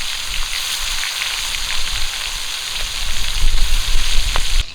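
Katla fish frying in hot oil in a wok: a loud, close, continuous sizzle with scattered pops and crackles that swells slightly near the end.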